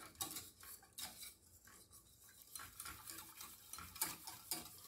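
A utensil scrapes and swirls around a saucepan of thickening béchamel sauce in repeated stirring strokes, close and quiet, with a few sharper clinks against the metal.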